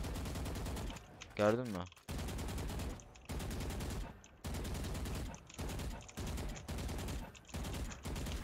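Automatic weapon fire sprayed in rapid, evenly spaced bursts in a shooter video game, loud and close, with short gaps between volleys and a brief spoken remark partway through.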